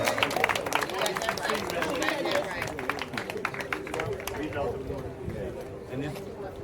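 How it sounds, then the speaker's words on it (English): At a community awards ceremony, the audience applauds an award recipient with dense, moderately loud clapping and crowd noise that gradually thins out, with voices talking over it. "Please give a round of applause to my man, Gregory Davis"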